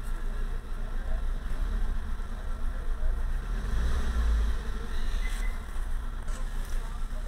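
A Hyundai i20 engine with a random misfire idles with a steady, close low rumble and slight uneven throbbing. Faint talk may sit underneath.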